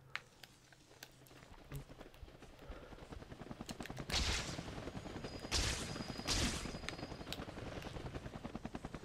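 A helicopter in the Spider-Man 2 video game keeps up a steady rotor drone, joined by rapid gunfire bursts, footsteps and louder swells of action sound partway through.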